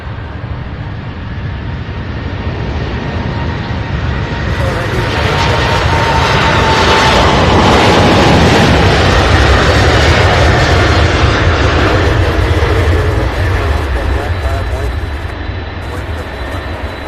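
Boeing 747 jet engines roar loudly at an airport, the sound swelling to a sustained peak midway and then slowly easing, with people talking faintly underneath.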